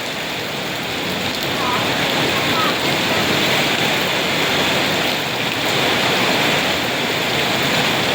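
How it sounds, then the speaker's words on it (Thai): A rainstorm driven by strong wind sweeps over Nakhon Phanom, Thailand, a steady, dense rushing roar of rain and gusts that holds loud and unbroken throughout, with no clear pauses. "อันนี้เป็นลมกับฝนมามัน"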